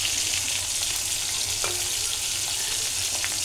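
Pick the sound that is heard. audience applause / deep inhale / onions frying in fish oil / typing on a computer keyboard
onions frying in fish oil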